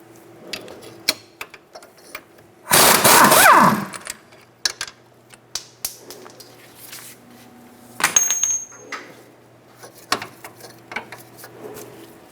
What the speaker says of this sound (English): Using a 21mm wrench and socket, we're going to remove the two strut bolts.